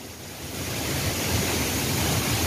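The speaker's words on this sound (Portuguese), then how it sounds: "Então a cachoeira tá sempre carregada assim." A powerful rush of falling water at a waterfall in Tibagi, Paraná, Brazil, a loud steady roar that swells slightly, with no voices.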